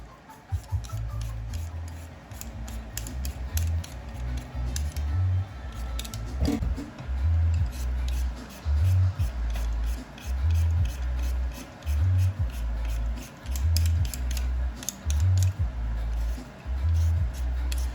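Potatoes are peeled by hand with a peeler in a kitchen, a rhythmic scraping rasp repeating in even strokes roughly once a second, close and steady.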